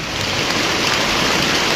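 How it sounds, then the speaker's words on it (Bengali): Heavy rain pours down in Chittagong under dark clouds, a loud, dense, unbroken hiss of water striking surfaces nearby, with no other sounds standing out. "অনেক বেশি পরিমাণ বৃষ্টি হচ্ছে"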